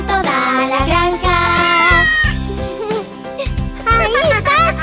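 A Spanish children's farm song in which a singing voice imitates a cat, repeating bright meow sounds over bouncy music with a steady beat.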